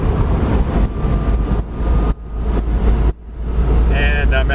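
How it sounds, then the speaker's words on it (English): Electric-converted Porsche 914 driving in third gear, a loud close hum of motor and road noise broken by brief dips, with a rising whine near the end. "Switching into third gear"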